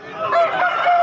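A white-feathered rooster with pale eyes at a rooster market in Vijayawada gives a loud, close, sustained call with a wavering tone that lasts about a second.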